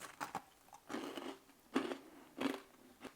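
Crunchy bites into the crisp side of a homemade crookie, a croissant baked with cookie dough: four distinct crackling crunches spaced about half a second to a second apart, close and fairly loud, with no talking.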